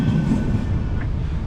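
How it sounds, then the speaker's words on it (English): A low, steady rail rumble rolls past nearby, a heavy continuous drone of a Manchester tram moving along its tracks. "All of the trams."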